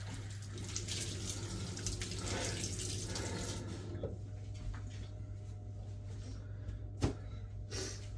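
Tap water runs steadily over freshly strained red currant pulp berries being washed in a kitchen sink, a continuous close hiss that thins out midway, with a single sharp knock near the end.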